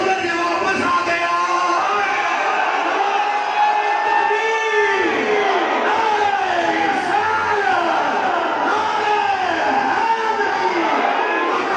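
Large crowd at an outdoor milad gathering shouting slogans together in loud, repeated call-and-response bursts, voices swelling and falling continuously throughout.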